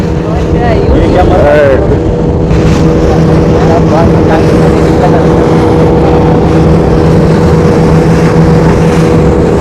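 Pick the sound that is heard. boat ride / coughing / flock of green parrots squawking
boat ride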